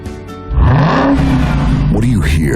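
Supercharged 6.2-liter Hemi V8 accelerating hard, the engine note rising sharply into a loud sustained roar with climbing pitch sweeps and a gear-change dip near the end, with a voice heard over it.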